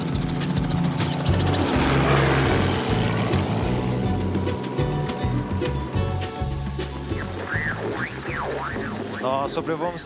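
A helicopter flies low over São Paulo on a hazy day, its rotor thumping in a steady, loud drone throughout. A voice talks under it, and a few chirpy tones come near the end.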